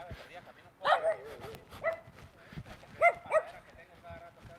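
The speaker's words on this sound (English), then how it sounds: "It's a little pug that's barking at me." A small pug yaps and barks in short bursts, a couple of sharp barks near and a few softer yips, with some background voices.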